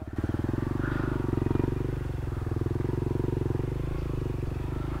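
A Honda CRF150 dirt bike engine idles and putters under clutch control on an off-road trail, a steady low rhythmic thrum close by, with a faint voice briefly in the background.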